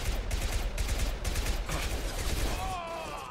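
Rapid gunfire bursts in the Mass Effect 2 video game, loud and continuous, with overlapping shots from several weapons during a firefight.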